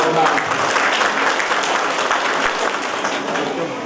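A crowd at a Basava Jayanti religious gathering claps loudly and steadily, with dense applause filling the whole stretch and easing slightly toward the end while a voice talks over it.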